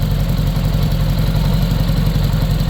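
A 1981 Honda Gold Wing GL1100 Interstate motorcycle with a freshly rebuilt carburetor idles in a steady, even, low rumble, loud and close, with no talk.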